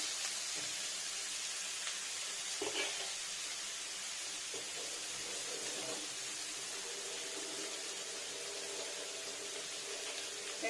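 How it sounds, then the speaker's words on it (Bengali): Potatoes, green chillies and onion sizzle in hot mustard oil in a pan while cooking a katla fish curry, a steady broadband hiss with a few soft clinks, fairly quiet and continuous throughout. "আলু আর লঙ্কাটা দিয়ে নিই পেঁয়াজ"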